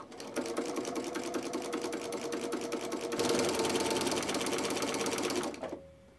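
A sewing machine stitches binding onto a quilt edge, a fast steady mechanical whir with rapid needle ticking that runs continuously for several seconds, speeds up slightly, then stops abruptly.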